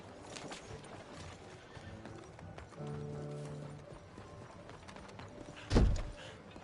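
A horse in Red Dead Redemption 2 trots with a running clip-clop of hooves, then gives a short, loud whinny near the end.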